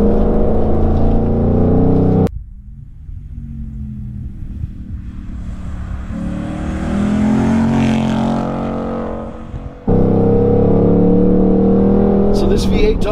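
A Ford Mustang V8 pulls hard under throttle, its engine note climbing and swelling as revs rise through the middle of the run, then cut off abruptly as a loud cabin drone returns; a person speaks over the engine at points.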